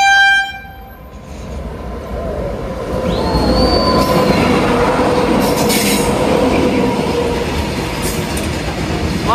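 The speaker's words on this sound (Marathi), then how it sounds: "तर हे बघू शकता समोर रेल्वे आलेली आहे।" Freight train rolling past at a railway crossing, loud and close, with a steady rumble of wagons, squealing wheels and a horn blast near the start.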